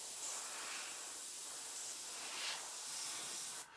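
Airbrush spraying paint onto a stencilled skateboard deck, a steady close hiss lasting several seconds with slight surges, then cutting off near the end, no voices.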